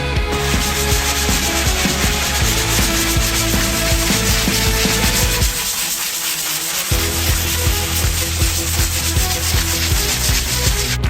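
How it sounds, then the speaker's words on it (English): Wood is sanded with a loud, steady abrasive rasp that drops out briefly midway, then resumes at the same close, even intensity. "Let's do some sanding."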